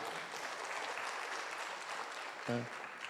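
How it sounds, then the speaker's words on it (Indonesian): Steady applause from a seminar audience for the leaders at the front of a network marketing talk, an even, fairly distant patter with a short voice cutting in near the end. "Sekali lagi tepuk tangan dong buat para leader di depan."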